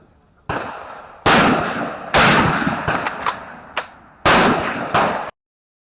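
A K98k Mauser rifle fires several sharp, loud shots at uneven intervals outdoors on a range, each crack ringing out with a short echoing tail, with a couple of fainter reports mixed in.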